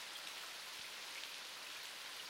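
Steady rain falls continuously in an outdoor setting in an animated drama, a dense even hiss of drops with no talk.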